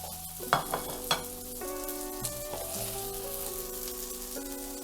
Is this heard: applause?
no